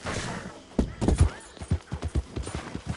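Rapid hoofbeats of a galloping horse in Red Dead Redemption 2 thud in an uneven rhythm, close and fairly loud, building into a steady run over a few seconds.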